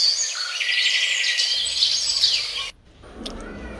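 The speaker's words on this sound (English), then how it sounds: "chirping birds" Birds chirp and tweet in a dense, busy chorus, several calls overlapping, fairly close; the chorus cuts off abruptly, leaving a quieter outdoor background with faint calls.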